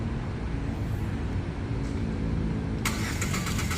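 A Chery Tiggo 5x car engine starts up, turning over into a steady mid-pitched running hum heard close by, followed by a bright electronic chime or tone near the end.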